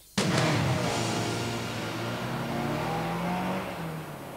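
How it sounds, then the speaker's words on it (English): A 1995 Peugeot 406 saloon's 2-litre, 135-horsepower petrol engine starts with a sharp burst then revs and accelerates loudly, holding a steady strong drone with rising engine tones, close by. "This is the 2-litre petrol engine, and under that bonnet, there are 135 horses just waiting to get out."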